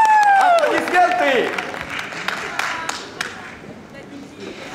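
Audience applause for a ballroom dance couple at a club competition, broad clapping that starts loud and thins over a few seconds, with tonal music or chime-like tones sweeping through at the start and voices mixed in.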